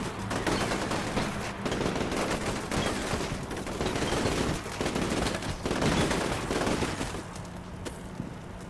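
Sustained machine gun fire in the Combat Mission Shock Force 2 video game, rapid continuous bursts of gunfire at moderate distance during an ambush, with no pauses for nearly nine seconds.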